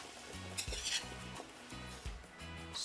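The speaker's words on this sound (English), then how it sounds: "I'm just gonna make sure I give this a good stir" A spoon scrapes and stirs a pot of chunky ground provisions during cooking, in a few close, separate strokes over a low steady hum, with faint clinks against the pot.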